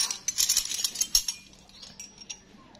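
A set of Japanese open-end metal wrenches clinks and jingles as it is handled, a cluster of sharp bright chinks early on that thins to a few scattered taps, with no talking.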